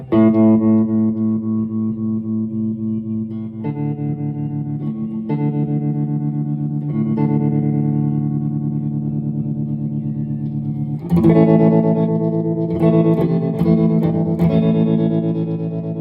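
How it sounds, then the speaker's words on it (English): Sustained electric guitar chords pulse steadily through a 1967 Deluxe amp with a slow, even tremolo throb, loud and close, with the chord changing a few times. "the tremolo is now working, and it sounds great"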